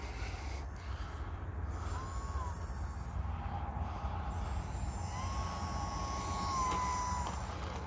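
An E-flite UMX Turbo Timber, a small electric RC plane, flies in for a landing. Its motor gives a faint, thin whine that glides up and down in pitch over a steady background rumble.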